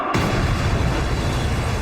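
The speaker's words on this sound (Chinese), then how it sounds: "轰隆一声巨响，震动了整个空岛" A huge explosion blast in a One Piece anime battle on a sky island erupts suddenly and stays loud, a dense rumbling roar filling the whole short stretch with no voices.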